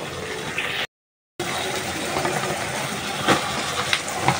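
Tender snake gourd pieces hit hot frying spices in a home kitchen pan, raising a loud, steady broadband sizzle that cuts out briefly, then hisses on with crackling bursts.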